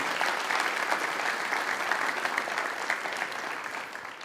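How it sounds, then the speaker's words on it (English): An audience at an awards banquet applauds in a steady, dense wash of clapping that holds at a moderate level from start to finish, with no voice standing out. "Please give a round of applause to the woman who makes this all possible"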